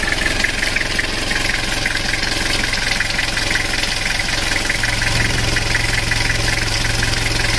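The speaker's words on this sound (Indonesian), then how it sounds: "Ini adalah kondisi mesin setelah 5 menit dihidupkan tanpa dikendarai" A Toyota Kijang diesel engine, freshly overhauled, idles with a steady, rattling knock, loud and close, continuing evenly throughout with no talking.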